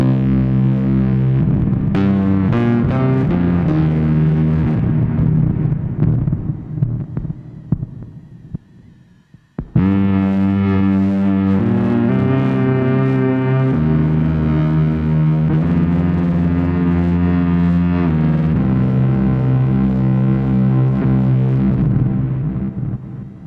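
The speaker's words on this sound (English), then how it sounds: "I'm going to add in the stereo effects." A violin played through bass amplifiers with stereo effects sounds as thick, droning, distorted sustained notes. It fades out near the midpoint, then returns abruptly with a fuller, wider tone that continues loud to the end.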